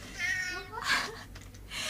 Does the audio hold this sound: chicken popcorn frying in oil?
no